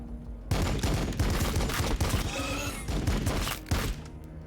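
Units open fire in the Warhammer 40k Battlesector video game, with a dense fusillade of rapid overlapping gunshots and thumps that starts abruptly and keeps going for several seconds.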